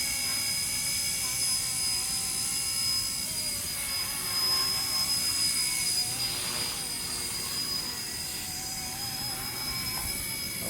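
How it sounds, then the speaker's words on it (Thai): The brushless motor of an RC-Era Huey mini RC helicopter under repair for drifting out of control and crashing gives off a steady, high-pitched whine, held close and constant throughout. "เป็นฮอจิ๋วก็จริงนะครับผม แต่กำลังเขาดีนะครับ รอบมันจัดเป็นมอเตอร์บัตเลตเนาะ"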